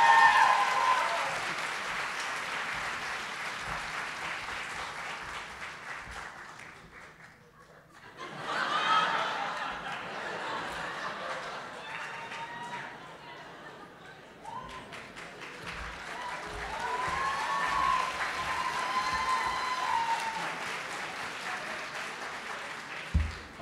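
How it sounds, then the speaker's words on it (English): Ceremony audience at a journalism day event clapping as an award winner crosses the stage, applause that dips briefly to near quiet then resumes strongly, with some laughter and chuckles mixed in. "Clap him across the stage."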